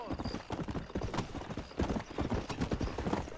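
A horse clip-clops along while being ridden in Red Dead Redemption, a steady rhythmic trot of close hoofbeats with a brief whinny-like tone near the start, at moderate level.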